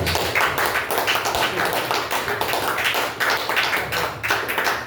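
A church congregation claps hands together in a dense, steady roar of applause, loud and continuous throughout, with no talking over it.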